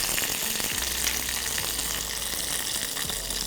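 Curry leaves, ginger and garlic crackle and hiss in hot frying oil in a pan, a continuous bright sizzle with small pops, close and steady, no voice over it.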